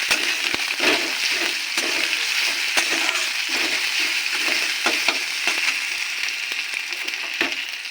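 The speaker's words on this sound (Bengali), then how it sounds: "দিয়ে দেবো আদা বাটা লঙ্কা রসুন বাটা এটা মিশিয়ে নেব" Ginger, chili and garlic paste frying and being stirred in a pan while potatoes for aloo dum cook, giving a steady loud sizzle with scattered scraping clicks from the spoon throughout, no talking.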